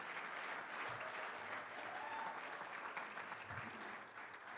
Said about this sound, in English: Give that a great round of applause.